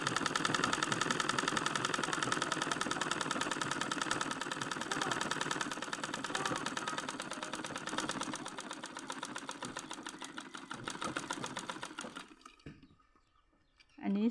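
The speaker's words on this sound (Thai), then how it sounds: "แล้วก็เย็บนะ แบบนี้เลย" A sewing machine stitching fabric for Hmong trousers, a fast continuous mechanical whirr at moderate level that runs steadily for about twelve seconds before stopping abruptly, leaving near silence.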